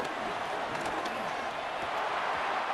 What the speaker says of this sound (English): I'm starting to detect an uneasy murmur through this crowd